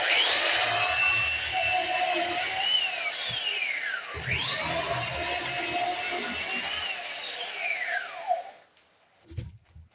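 A Husqvarna Electronic 1600 chainsaw cuts wood. The engine holds a loud, close whine that rises and falls in pitch with the load, then cuts off near the end and leaves a few faint knocks.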